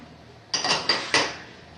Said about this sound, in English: Dirty dishes in the